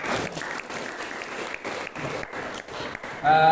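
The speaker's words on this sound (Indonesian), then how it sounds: "Tepuk tangan bagi kita semua." A gathering of trainees and guests at a chemical engineering teaching practice event gives fairly close, somewhat uneven clapping. The applause swells and dips in rhythmic bursts before a louder tonal sound cuts in at the end.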